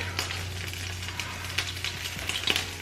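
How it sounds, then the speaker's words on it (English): Crushed garlic frying in butter in a pan over medium heat, a steady close sizzle with soft crackling pops throughout and a low steady hum underneath. "Then putting this back on medium heat and adding some butter. Then I'm adding some crushed garlic."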